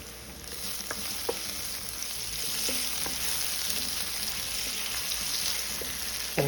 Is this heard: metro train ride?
no